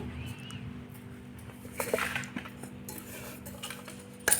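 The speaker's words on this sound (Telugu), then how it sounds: "దీన్ని బాగా కలుపుకుందామండి ఉప్పు మొత్తం మిక్సీ పట్టుకొని వేసుకొని కలిపేసుకుందామండి" Tomato pickle being mixed with ground salt: close scraping, stirring and clinking of a utensil against a metal vessel, uneven and fairly quiet, with a sharper clatter at the end.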